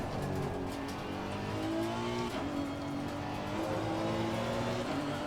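A race car laps the Zandvoort circuit, its engine a steady, loud droning whine that shifts pitch through gear changes with no let-up, heard close as if from onboard.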